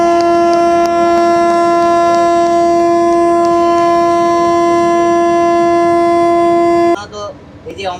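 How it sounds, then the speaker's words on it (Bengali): An Amrit Bharat Express train sounds a long, loud, steady horn blast for about seven seconds at Santragachi station before it departs, followed by a brief clatter and lower rumbling. "আমাদের এই অমৃত ভারত এক্সপ্রেস সাঁতরাগাছি ছেড়ে হাওড়ার পথে রওনা দেবে।"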